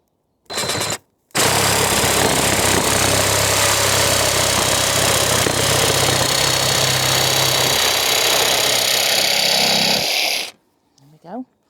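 A power tool cuts through a wooden pallet collar hinge in one loud, steady burst of about nine seconds, preceded by a short start-up blip and ending with faint clatter.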